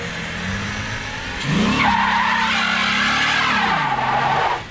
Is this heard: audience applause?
no